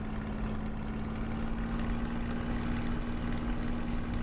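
Spitfire engine in a flight simulator game, a steady low droning hum with a constant tone running throughout, moderately quiet and unchanging, with no talking.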